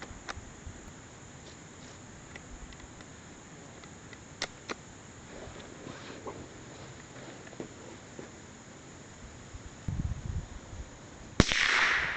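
Five rifle shots from a Winchester Model 72A or Model 74 fired on an outdoor range, sharp isolated cracks spaced irregularly over several seconds against a quiet background, with the last report louder and closer.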